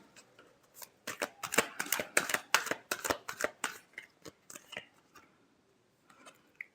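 Tarot cards shuffled by hand, a fast run of crisp riffling flicks that swells and then tapers to a few soft taps, close up and with no talking.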